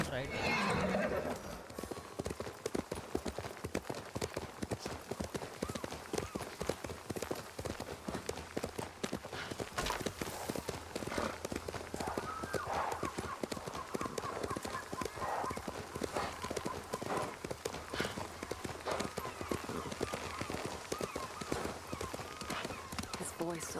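Horse hooves clopping steadily and a horse neighing in the video game Ghost of Tsushima, on Iki Island, a continuous gallop under game ambience with voices.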